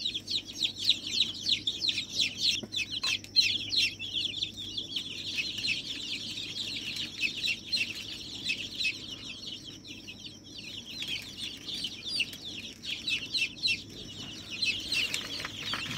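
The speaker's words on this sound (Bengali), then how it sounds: "এই যে দেখেন সব বাচ্চাগুলো আমি ধরে নিচ্ছি" Young desi chickens being caught for Gumboro vaccination make a continuous chorus of high peeps and clucks, busy and close throughout with brief pauses.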